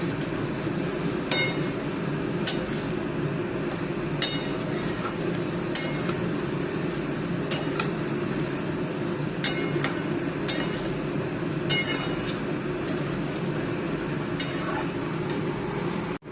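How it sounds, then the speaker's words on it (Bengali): Stuffed pointed gourd (potol) with spices is stirred in a pan, with steady sizzling under a string of sharp clinks and scrapes from the spoon against the pan every second or two. "ভালো করে নাড়াচাড়া করে নেব করে যতক্ষণ না পটলের ভিতরে মশলাগুলো ঢুকে যায় সেইভাবেই আমি তিন থেকে চার মিনিট এটা নাড়াচাড়া করে নেব"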